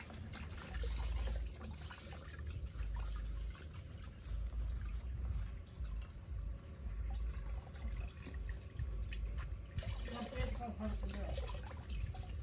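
Water pouring steadily from a farm motor pump, a faint continuous splashing gush with a low rumble underneath and occasional voices in the background.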